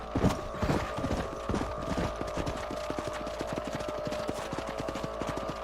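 Horse hooves clip-clop in the Western video game Red Dead Redemption, a steady, close rhythmic trot of sharp repeated hoofbeats that continues throughout with no talk.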